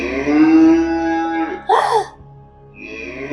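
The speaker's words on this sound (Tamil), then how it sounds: "பசுமாடு." A cow moos loudly and close, a long drawn-out low call followed by a shorter second bellow, heard alone without talk.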